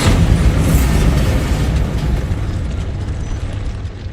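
A Bombarda spell explosion in Hogwarts Legacy, a loud, broad blast that rumbles and slowly fades over several seconds, with no talking.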